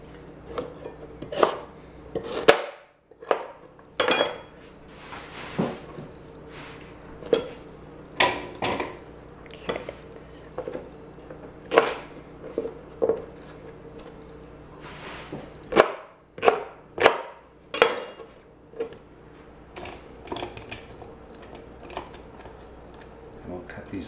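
Sharp knife strokes chopping carrots on a cutting board for meatloaf prep, irregular bursts of crisp chops with short pauses, close and fairly loud, with a person talking intermittently between cuts.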